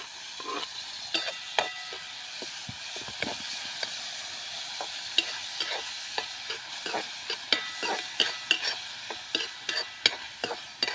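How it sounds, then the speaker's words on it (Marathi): Tomato and onion sauté in a pan for a gram-flour thecha, a soft continuous sizzle broken by regular scraping stirs of a spoon, close and fairly quiet, with no voices. "टोमॅटो देखील छानपैकी परतून घ्यायचा आहे."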